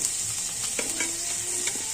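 Chicken meat added to onions already browned in a pan, frying with a steady close sizzle and occasional stirring scrapes throughout, no voices.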